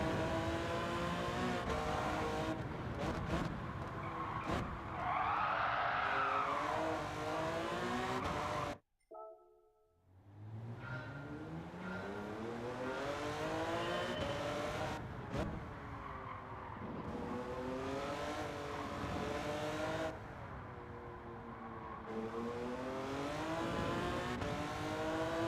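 A tuned Porsche 917K race car on the Nordschleife howls through rising and falling gear changes, with tire squeal in corners and a brief sharp cut in engine noise before it revs back up, loud and continuous.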